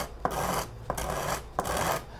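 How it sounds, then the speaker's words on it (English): Sandpaper rasps back and forth across the edges of an acoustic guitar headstock inlay in three steady strokes, close and fairly loud, with a short sharp scrape marking the start of each pass. "Not a lot of pressure on the sandpaper,"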